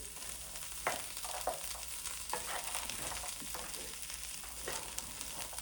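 Pani puri filling ingredients being stirred and mixed in a hot pan, a steady sizzle under repeated scraping and clacking of a spoon against the pan, no voices.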